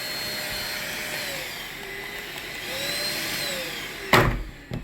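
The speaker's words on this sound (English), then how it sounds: "the actual vacuum cleaner itself. The battery and handle actually disconnects. It also has 2 different power settings." A cordless vacuum cleaner with a detachable battery and handle, used to clean out a semi truck, runs with a steady whine and airy rush for several seconds before sharp handling clatters near the end.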